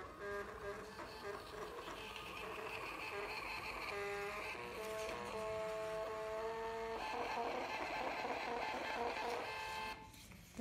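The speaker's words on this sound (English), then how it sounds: "The printer functions." A small receipt printer in a handheld Android payment terminal whirs and buzzes continuously for several seconds, a mechanical printing drone with shifting tones, ending abruptly.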